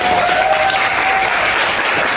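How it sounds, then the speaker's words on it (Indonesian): A classroom of students bursts into steady applause during a lesson, a dense and fairly loud wash of clapping that holds evenly from start to finish. "beri tepuk tangan"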